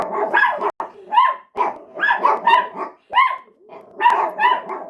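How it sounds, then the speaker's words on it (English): Puppies bark and yip in quick repeated bursts, several sharp calls close together with brief pauses between clusters, loud and close with no other sounds. "Okay, puppies. Puppies."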